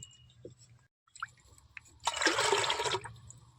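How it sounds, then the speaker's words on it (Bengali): Water poured onto settling potato starch made from grated raw potato in a kitchen bowl, a dense splashing pour lasting about a second after quieter handling noises, fairly close and with no talking. "আমি এখানে অনেকটাই জল দিয়ে রেখে যাব"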